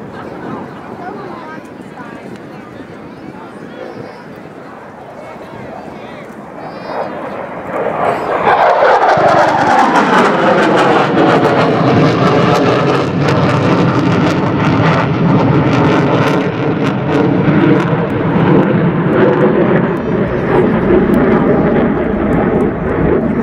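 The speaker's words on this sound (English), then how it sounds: "you will see the Hornet roll in, acquire his target, go back to forward flight and make his bomb drop" A USMC F/A-18 Hornet rolling in for a bomb drop at an airshow demonstration, its jet roar swelling from distant rumble into a loud, sustained howl with a sweeping pitch shift, under an announcer's voice.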